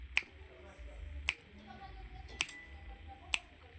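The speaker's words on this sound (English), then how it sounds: "let me just snap my fingers next to it" Four sharp, bright finger snaps sound close to a phone microphone, spaced about a second apart over a faint background hiss.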